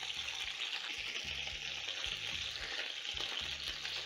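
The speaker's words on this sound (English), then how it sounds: "Look how wonderful the meatballs are searing on the bottom side that has cooked" Meatballs sear in a pan with a steady, soft broadband sizzle, joined by faint low clicks and bumps from the pan throughout.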